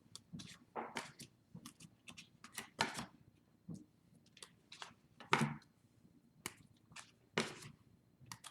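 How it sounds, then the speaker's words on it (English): Tarot cards are shuffled by hand, with crisp, close snapping riffles and soft taps coming in irregular bursts. "let's give it one more shuffle like this, and then we'll pull cards"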